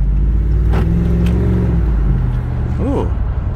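A 2018 Dodge Ram Power Wagon with a Magnaflow cat-back exhaust idles with a steady, deep, low rumble, heard from inside the truck with the windows down. A faint short whine rises near the end.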